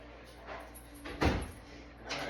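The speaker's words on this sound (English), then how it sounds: "Close this door" An indoor door swings shut with a soft thud, amid a few faint household knocks before and after.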